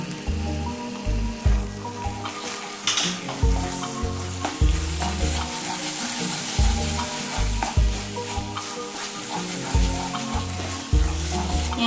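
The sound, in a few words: stirring wheat rava kesari in a pan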